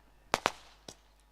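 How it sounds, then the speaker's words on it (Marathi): Firecrackers pop at an outdoor village cricket tournament opening before the toss: two sharp close bangs in quick succession, then a third softer crack a moment later, with no talk. "फटाक्यांच्या आतषबाजीमध्ये"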